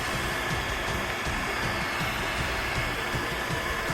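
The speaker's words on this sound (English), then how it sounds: "you can grab a heat gun, okay, and you can heat those small little petals" A heat gun blows a steady, even hiss of hot air over small 3D-printed petals, a constant airy whoosh at close range with no talking.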